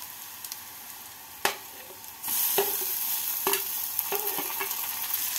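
Chopped tomatoes tossed into frying onions for a pea and potato curry, with a sharp clatter, then a louder burst of sizzling and rhythmic scraping stirs up close, with no speech.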